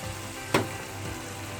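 Water poured into a pan of frying mash dal masala, with one sharp loud burst of sizzle that settles back into a steady, close frying hiss.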